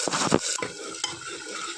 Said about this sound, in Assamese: কেঁচা গোন্ধ যোৱালৈকে অকণমান ভাজিলোঁ